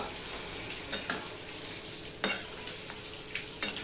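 Fried lentil dumplings sizzle in a pan after water is poured in, a steady close hiss and crackle with a few louder spits and pops breaking through.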